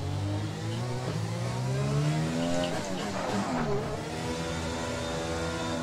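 F1 2020 race car in the video game, braking and then rolling through the slow pit lane at about 80: a steady engine note whose pitch drops as the car slows, then holds low and even.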